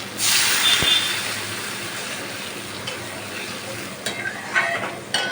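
Water is poured into a pan of frying potatoes, setting off a loud burst of sizzling that settles into a steady hiss, with a few stirring scrapes near the end, close up.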